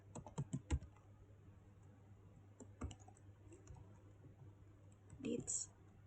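A computer keyboard gives a short burst of fast key clicks, then a few scattered taps over a steady low hum, with faint voice-like sounds near the end.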